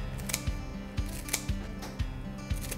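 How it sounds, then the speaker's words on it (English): Scissors snip through fresh organic chives over a bowl, a crisp sharp cut landing about every half second in a steady rhythm, close and clear. "take your scissors and you could just snip off a few and put them right into your bowl"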